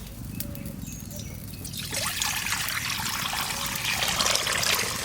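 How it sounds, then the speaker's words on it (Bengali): Water is poured into a kadai, a wok-like pan, for cooking dal. It starts as a light trickle, then becomes a steady, fuller splashing stream that carries on to the end with no talking. "কড়াইতে জল দিয়ে দিচ্ছি।"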